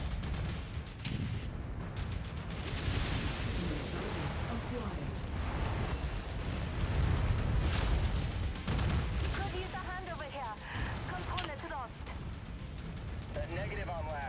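A mech blowing up during a MechWarrior 5: Mercenaries battle, a dense, sustained roar of explosions and weapon fire with a heavier swell midway, while a voice talks over the din.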